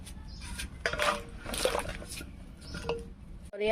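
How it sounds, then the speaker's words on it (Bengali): Water splashing and dribbling into a cooking pot while making a Bengali fish curry with potato and cauliflower, with liquid gurgles and a few clanks of pot and utensils, close and moderately loud. "এখন জল দিয়ে দেবো"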